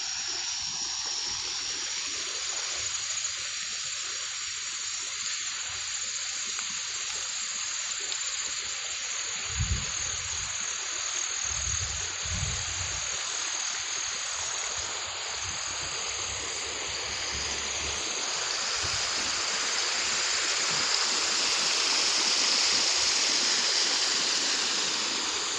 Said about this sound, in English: You can hear the water. It's flowing right over these trees.